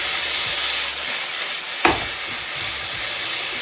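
Beef stir-fried in a wok with peppers and rehydrated garlic granules sizzles loudly and steadily, with a brief scrape or toss partway through and no talking.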